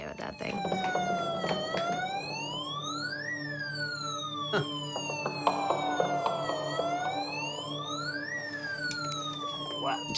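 A toy fire truck's electronic siren wails up and down in long sweeping cycles, steady and moderately loud, with a few faint clicks and bumps underneath.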